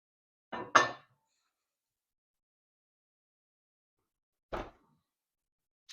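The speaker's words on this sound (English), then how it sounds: "we're going to put the lid back on" A heavy lid clanks onto a hot Dutch oven holding honey sourdough bread, followed seconds later by a single knock as the pot goes back into the oven, with silence in between.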